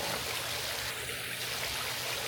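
A waterfall rushes in a steady, continuous wash of flowing water, close and fairly loud, with no other sounds.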